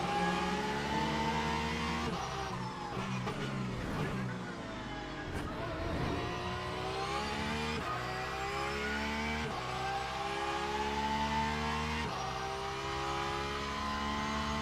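Porsche GT3 race car engine in the Le Mans Ultimate racing game, a loud continuous roar with rising and falling revs and gear shifts, steady throughout with no pauses.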